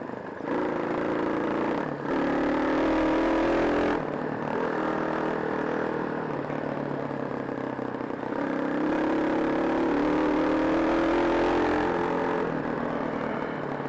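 A Hawk 250 motorcycle rides a dirt trail, its engine note droning steadily and rising and falling with throttle changes, near and continuous for the whole stretch with no talking.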